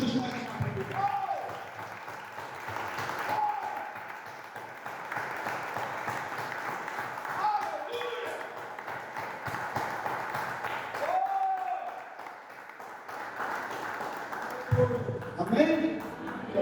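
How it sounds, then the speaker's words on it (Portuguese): Church congregation applauding, a steady crowd clapping sustained throughout with voices and music mixed in underneath. "Aplauda Jesus mais uma vez."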